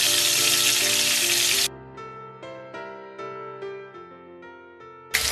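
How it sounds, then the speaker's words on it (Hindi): Rohu fish fries in hot oil in a kadai with a loud, close, hissing sizzle. Soft music takes over in the middle, and the frying bursts back in at the end. "ऑयल गर्म हो चुके हैं, अब इसको फिश को मैं फ्राई कर लेंगे।"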